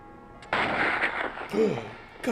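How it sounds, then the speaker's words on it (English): A couple of sharp, booming gunshots in the video game Indiana Jones and the Fate of Atlantis, close and punchy, with a short voice sound between them. "Gunshots."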